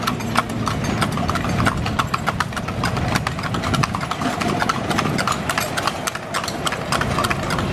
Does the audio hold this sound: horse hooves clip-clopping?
yes